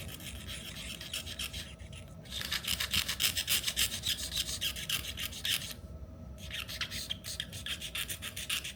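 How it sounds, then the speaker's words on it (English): A razor blade scrapes gold leaf off a crafted sign in close, steady rasping strokes, repeated and rhythmic with two brief pauses, loud and alone without any talking. "I needed to meticulously scrape it off with a razor blade, which produced a really satisfying sound"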